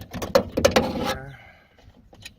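The window regulator assembly drops inside a Jeep Cherokee XJ door, giving a short cluster of loud metallic clunks and rattles that settle into quiet within about a second, close up and with no talking.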